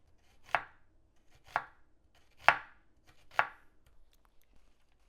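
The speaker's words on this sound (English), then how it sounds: "Start by cutting 2 onions pole to pole." Onions being cut lengthwise with a knife on a board, four distinct crisp chops at an even pace, each a sharp close thud with a short crunchy tail, in otherwise quiet surroundings.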